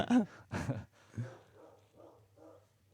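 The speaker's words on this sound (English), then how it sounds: "Wonder what my dog's barking at." A dog barks a few times indoors, two or three sharp barks up front followed by softer, more distant yips, heard during a relaxed conversation.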